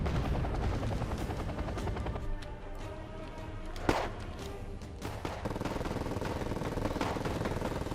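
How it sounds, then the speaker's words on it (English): Steady rotor thrum and engine drone of a Bell recon helicopter in Wargame: Red Dragon, with bursts of gunfire-like cracks and a sharp impact midway, dense and continuous throughout. "Doing some sneaking against a little Bell recon helicopter."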